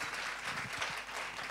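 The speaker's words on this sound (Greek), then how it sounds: "Θέλω να το πω και ένα χειροκρότημα πραγματικά" Applause in a studio setting for a singer, a steady dense wash of clapping that fills the whole short stretch at a moderate level without any voices.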